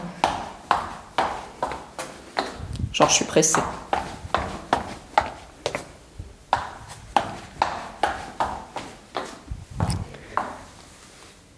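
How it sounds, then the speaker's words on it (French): Footsteps on a floating parquet floor laid over an insulating underlayment, a steady series of close thuds walking through a cluttered room, with a person speaking over them partway through. "J'essaye de marcher normalement, mais c'est un peu dur déjà parce que c'est encombré"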